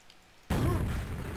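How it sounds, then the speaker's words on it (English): A rocket blast in Quake deathmatch on the DM6 map, striking suddenly after a quiet moment and followed by a loud, sustained roar of explosion and movement noise. "Rocket jumps are real tough."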